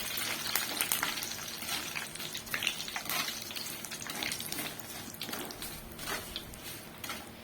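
Dried curry leaves fry in hot oil for homemade hair oil, giving a steady crackling sizzle with brief bursts of spattering throughout, fairly close and with no one talking.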